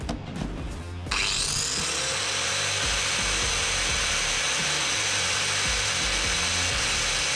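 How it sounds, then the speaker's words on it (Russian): An angle grinder runs from a Romoss X1000 portable power station, starting with a brief rattle and then settling into a loud, steady, high-pitched whine that holds unchanged to the end. "Дома есть болгарка. И хочется попробовать вот этой штукой пошуметь."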